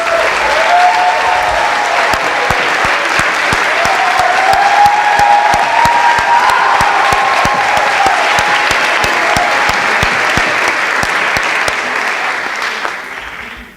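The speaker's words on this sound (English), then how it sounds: "if I could get them to stand one last time and give them a round of applause" Sustained applause for program staff at a 2019 academy graduation ceremony, a large audience clapping steadily and loudly for over ten seconds before tapering off.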